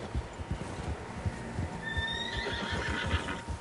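Several horses in Red Dead Redemption 2 give a clear whinny amid a steady, uneven clip-clop of hooves close by, with ambient outdoor noise.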